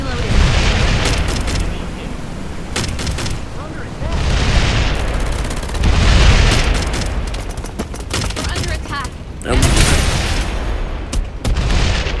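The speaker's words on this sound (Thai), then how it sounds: "มันจะระเบิดแล้ว" Repeated heavy booms and blasts in a busy Farlight 84 game soundscape, with loud bursts recurring every few seconds and sharp cracks between them.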